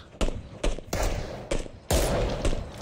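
SKS rifle gunshots in the PUBG video game on the Miramar map, a handful of sharp cracks spaced irregularly over a few seconds, with close, loud reports and a lingering noisy tail.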